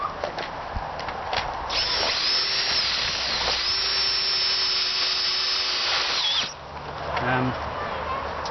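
A power drill whines steadily for several seconds as it drives in a self-tapping screw, then winds down, with short clicks and rattles before and after.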